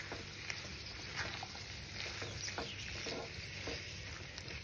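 Spices and dry red chilli being stirred in a pan make a continuous quiet sizzle dotted with light scraping taps at an even, unhurried pace.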